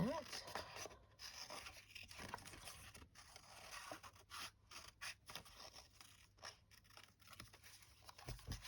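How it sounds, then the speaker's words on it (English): Scissors snip and scrape through paper while fussy cutting a flower from a vintage French botanical print, with a series of soft, close cuts and rustles in a quiet room. "So what if we use this, and let's fussy cut that."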